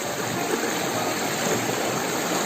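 A steady, full rush of running water pours over toy trucks as they are rinsed clean, continuous and close with no breaks or voices.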